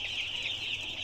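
Young broiler chicks kept on a house rooftop farm, a flock of about 750 three-day-old birds, produce a steady, continuous chorus of high peeping close by with no talking.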